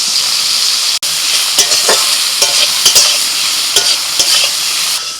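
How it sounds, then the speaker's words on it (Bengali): Soybean chunks, squeezed of water, fry in hot oil in a wok, a loud continuous sizzle broken by scraping stirs and clinks of a spatula, with no talking. "ওই তেলের মধ্যে এবার সয়াবিনটা ভেজে নিচ্ছি সয়াবিনগুলো একটুখানি জলটা চেপে ফেলে কড়ার মধ্যে দিয়ে দিই"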